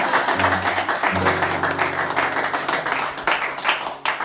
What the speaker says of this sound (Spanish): Ahí puede ir, un aplauso puede ir.